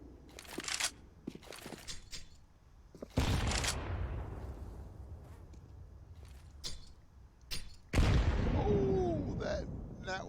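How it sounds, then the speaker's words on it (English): Grenade blasts in a competitive video game match, two loud booms with long decaying tails amid sharp gunfire bursts and clicks, with game voices faintly underneath. "That was a dirty skybox nade"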